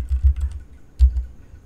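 Typing on a computer keyboard comes through as two short clusters of soft, close key taps with a pause between them, while customer names are entered for a mail merge.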